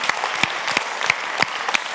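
A concert crowd at a large open-air music event claps steadily, a dense, loud wash of applause with scattered sharper individual claps throughout.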